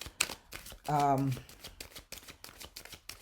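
A brisk riffle of playing cards being shuffled, close up, with a person talking around it.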